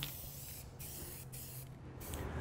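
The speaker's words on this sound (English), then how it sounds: "I'm just gonna spray like one coat to where they look a little bit better" A spray can coats car trim pieces in satin black for an E92 M3 and E36 M3, giving a steady close hiss with a few brief pauses between passes and no speech.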